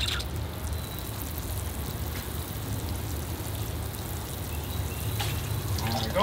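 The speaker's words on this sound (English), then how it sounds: "Here I go with the water." Water poured from above onto freshly planted cashew seeds, a steady splashing and trickling wash that runs unbroken throughout with no voices.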